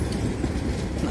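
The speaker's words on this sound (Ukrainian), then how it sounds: "9 трамвай тепер тут їздить" Lviv's number 9 tram rolls along Pidvalna Street in summer, a continuous low rumble with rail clatter, heard close and steady with no voices.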